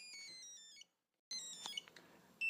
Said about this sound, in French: c'est le capteur 2 qui a été activé avec le buzzer qui se met à sonner